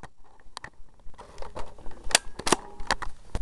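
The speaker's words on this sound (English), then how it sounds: "I'm just going to cock it" An M39 Desert Eagle BB gun is handled and cocked up close, giving a series of sharp metallic clicks and clacks in quick succession.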